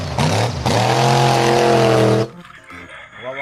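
A toy monster truck plays a loud, steady, electronic-sounding engine roar with a revving rise. It cuts off abruptly after about two seconds into quieter, choppy toy noises.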